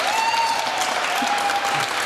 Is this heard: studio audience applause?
yes